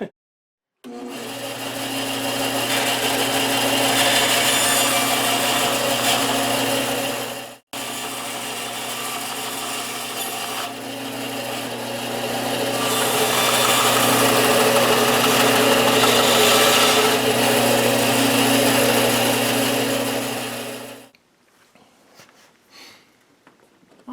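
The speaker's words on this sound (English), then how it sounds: "we're going to use a bandsaw to cut this because we can make a little bit of a curvature" A bandsaw cuts plastic side trim molding for a GMC Yukon or Suburban, a loud steady motor whine with humming overtones that runs for about twenty seconds, pauses briefly near the start, then winds down.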